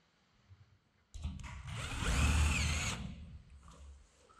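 A power drill drives a screw into gypsum board: a close, whirring burst that ramps up for about two seconds and then winds down, with no talk.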